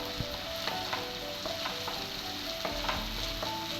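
Chopped cauliflower sizzling and being stirred in a hot pan for egg rice, with steady frying hiss and regular scraping clicks of a spatula, close up and without talk.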